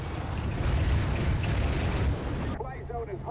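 A nuclear strike explodes in Act of Aggression, a loud, sustained roaring blast that fills the clip before cutting off sharply into quieter rumbling, with no other sounds on top.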